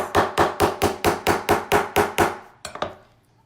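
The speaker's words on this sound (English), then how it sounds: "I'm gonna take my nylon head and I'm gonna just give it a couple of nice" Nylon-head hammer tapping metal on a block: about nine evenly spaced, sharp strikes close by, followed by a few lighter, quicker taps that fade out.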